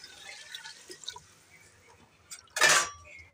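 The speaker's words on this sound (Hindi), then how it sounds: "अब हम इसमें पानी डाल देंगे ग्रेवी बनाने के लिए।" Water is poured into fried masala to start the gravy for a beef and lentil kofta curry, a brief splashing pour near the end after faint kitchen clinks, quiet overall.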